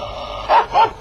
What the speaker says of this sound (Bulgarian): Затова ли ми ядеше хляба всеки ден, за да ме лаеш сега?